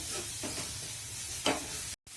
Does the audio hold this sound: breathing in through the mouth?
no